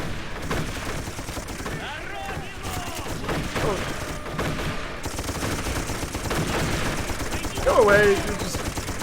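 Rapid gunfire in the World War I battlefield video game Darkest of Days: dense, continuous volleys of rifle and machine-gun shots with distant booms, loud throughout, while someone speaks briefly over the shooting.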